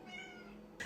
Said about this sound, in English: and that's my cat, Willow.